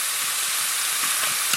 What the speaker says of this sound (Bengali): এবার আমরা কিমা করা মাংসটা ঢেলে দিয়ে আরো সুন্দর করে কষিয়ে নেব।